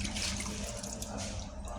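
A little water is poured into bread dough, producing a faint, brief trickle and splash.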